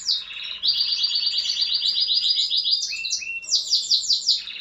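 Canaries and goldfinches chirp in a fast, continuous trilling song with repeated bright warbled phrases, close and fairly loud, with no talking.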